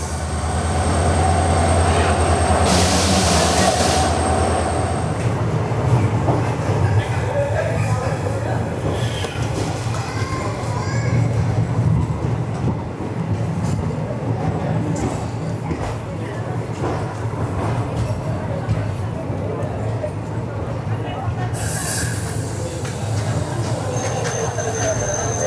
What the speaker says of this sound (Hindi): लगभग 35 मिनट के डिले के साथ हमारी ट्रेन का डिपार्चर हो रहा है Vasco the gamma railway station से।